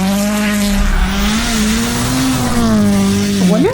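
A WRC rally car stuck in deep snow at Rally Sweden, its engine revving hard at a steady high drone with wheels spinning, loud and close, then a sharp rising rev near the end.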